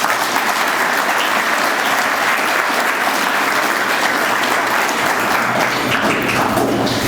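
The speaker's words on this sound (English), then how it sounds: "I think they deserve a round of applause." An audience at a society's annual breakfast program claps in a long, even round of applause for honoured class members, many hands blending into a dense, steady roar that holds at full strength throughout.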